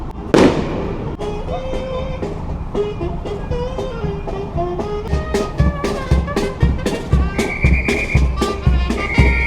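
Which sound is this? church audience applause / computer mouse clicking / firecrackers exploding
firecrackers exploding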